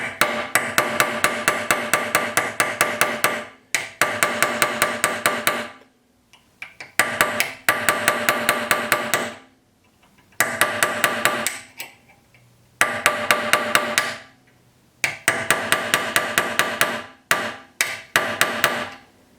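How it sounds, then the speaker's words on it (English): A hammer strikes metal to set wire inlay into steel: loud, fast, evenly spaced blows in repeated bursts with short pauses between, alone and close. "And you want to keep hammering it."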